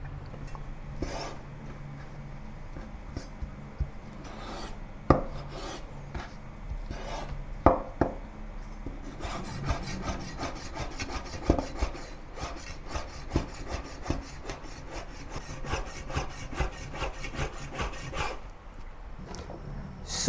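A knife chops pickled mustard greens into small pieces on a board: sparse taps at first, then a rapid, steady run of close, crisp cuts before it stops.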